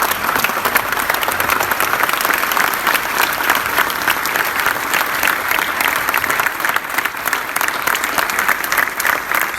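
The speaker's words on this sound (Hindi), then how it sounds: "आप सब खड़े होके और एक बार इनके हार्दिक स्वागत तालियों के साथ करेंगे।" A seated crowd at a Kargil Vijay Diwas ceremony in Surat breaks into loud, sustained applause, dense clapping filling the whole stretch without pause.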